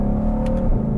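A 2020 Ford GT500 pulls hard in first gear in manual mode, its engine note climbing steadily with a loud, close, continuous roar and a brief shift-like break near the end.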